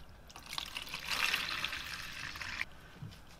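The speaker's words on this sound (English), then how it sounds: "We might just let this soak in evaporust and see if we can get anywhere with that." Evaporust rust remover liquid poured into a container to soak parts from a vintage kiddie ride drive shaft, a steady hissing splash lasting a couple of seconds before stopping abruptly, fairly close and moderately loud.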